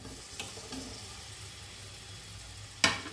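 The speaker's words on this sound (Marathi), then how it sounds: "टोमॅटो पण चांगला फ्राय होऊन देऊ." Tomatoes frying with onion in a pan for egg bhurji, a quiet steady sizzle broken by two sharp clinks of a utensil against the pan.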